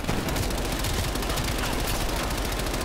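Dense, continuous gunfire from the Black Ops Cold War campaign, rapid bursts and overlapping shots rattling loudly without pause, with no talk over it.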